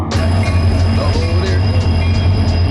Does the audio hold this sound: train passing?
yes